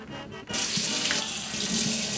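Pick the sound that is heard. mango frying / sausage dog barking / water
water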